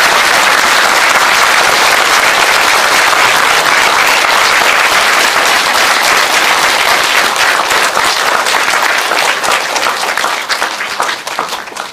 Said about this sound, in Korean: 다시 한번 스님께 큰 박수 드리겠습니다.